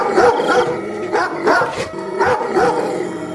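A dog named Tuffy barks close by, calling out to other dogs in three or four quick bursts of sharp barks with brief gaps between them.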